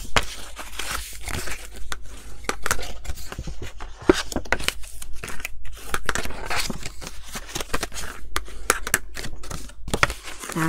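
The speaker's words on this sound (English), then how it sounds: "just fold all of your score lines" Cardstock for a flat-folding Christmas gift box pouch is creased and folded along score lines, giving a steady run of close crinkling, crackling and papery snaps with brief quiet gaps between folds.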